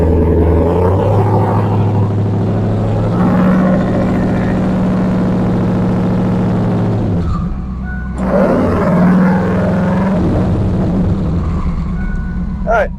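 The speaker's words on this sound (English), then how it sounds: "First gear, let's rev it up." Engine of a Saleen car with a Turbo 400 automatic transmission revving in first gear, a loud, steady roar that swells around the middle and again after a brief dip, with a voice talking over it.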